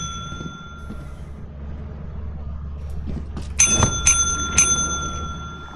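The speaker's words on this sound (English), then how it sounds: "we gotta hit the bell. There's a bell here." A ship's bell struck three times in the video game Lethal Company, bright metallic rings about half a second apart, loud and close, following a low ambient hum.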